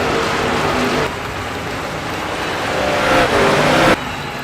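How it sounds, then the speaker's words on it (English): Stop-motion NASCAR race cars at Chicagoland accelerate on the green flag, a continuous loud engine roar that swells and shifts, with no talking over it. "Slam the gas, it's time to drive!"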